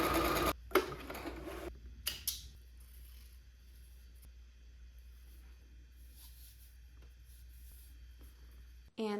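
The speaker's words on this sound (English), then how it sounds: "I'm just going to zigzag stitch the entire bottom edge." A sewing machine zigzag stitches the bottom edge of a dress, a soft, steady mechanical whir running close by, with some louder rustling and handling of fabric at the start.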